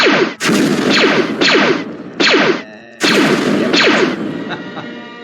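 Repeated loud blaster shots fire in quick bursts in a Python-made shooter game, each with a sweeping synthetic tone, separated by brief gaps and short electronic chimes.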